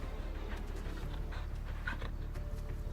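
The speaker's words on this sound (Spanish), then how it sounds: "Qué mono, me encanta este perro." A dog in the video game Final Fantasy 16 pants quickly and steadily at close range, a soft rhythmic huffing over a low game background hum.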